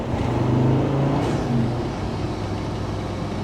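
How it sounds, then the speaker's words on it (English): A Land Rover Defender Td5 fitted with a Darkside Developments turbo kit and an induction kit, its engine loud and close as the turbo spools up, then the note easing back to a steady drone without any talk. "You can hear the spool of the turbo."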